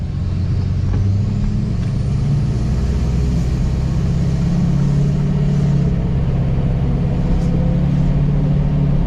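A tuned 2023 diesel truck pulls away, its engine a loud, steady low rumble close to the microphone with little change in pitch, no voices over it.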